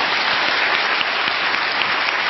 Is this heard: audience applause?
yes